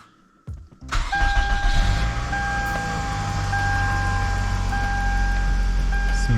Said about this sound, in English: I'm gonna turn on the car, and hopefully nothing goes bad.